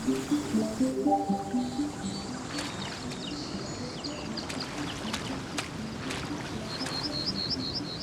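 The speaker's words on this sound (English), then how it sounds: "It still kind of just sounds like water." A babbling brook flows in a steady, soft wash throughout, with faint bird chirps and a few light clicks over it and no voices.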